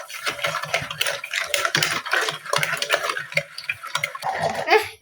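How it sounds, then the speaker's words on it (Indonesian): Batter for a steamed marble cake whisked by hand in a bowl, rapid rhythmic clinking and scraping strokes close up, continuing steadily throughout. "Dikocok secara manual."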